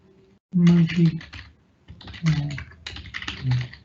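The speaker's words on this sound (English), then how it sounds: "sorry, can't type properly" Someone types on a computer keyboard in quick bursts of clattering keystrokes with short pauses between them, while a voice is heard speaking.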